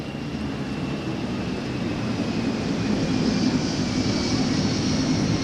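A fixed-wing airplane flies low directly overhead a ballpark on a cloudy day during a Cardinals vs Mets baseball game, a steady, broad engine roar that swells slightly toward the end, with no talking.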